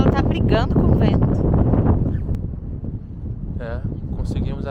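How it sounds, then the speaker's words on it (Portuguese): Strong wind buffets a camping tent pitched in wild open country in Mongolia, a steady loud roar with flapping gusts, while people talk over it. "Eu acho que ela tá brigando com o vento"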